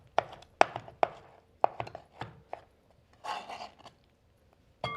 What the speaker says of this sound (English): chopping these peaches just roughly here